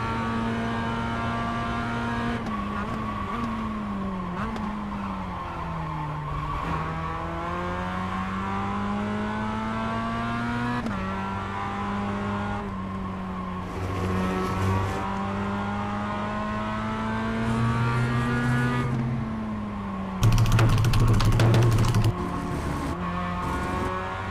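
Mazda MX-5 race car lapping a circuit in a racing video game, its engine note climbing and falling through gear changes as it accelerates and brakes, loud and continuous with a brief harsher burst near the end.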